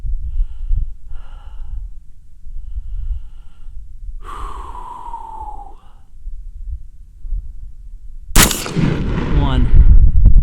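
A single loud, sharp report from an M&P-15 Sport rifle at a range, near the end of the clip, after quiet breathing and faint rustles.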